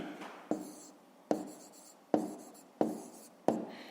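A pen writes by hand on paper while a fifth-grade math exercise is worked out. Five crisp, close strokes and taps fall at a steady pace, with faint scratching between them and no talk.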